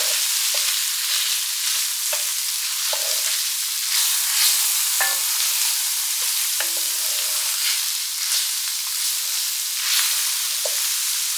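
Ground beef sizzles in a skillet for a one-pan gluten-free, dairy-free Hamburger Helper. It is a steady, close, crackling fry with a few soft scrapes from stirring and no talking.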